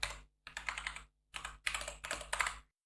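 Password typed on a computer keyboard: several quick bursts of close, crisp key clicks separated by short silent gaps.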